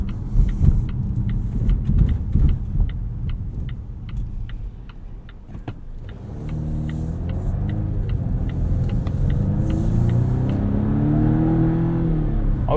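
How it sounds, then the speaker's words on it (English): A 2023 Volvo V60 Cross Country B5 with all-wheel drive accelerating out of tight hairpins, its engine note rising and falling in a steady drone, heard from inside the cabin over a rapid ticking indicator early on. "Pretty good acceleration out of 90-degree hairpins."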